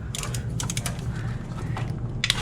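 A ratchet wrench working on the intake manifold of a Mazda Miata during a Skunk2 manifold install, giving quiet, close bursts of clicking over a low background hum.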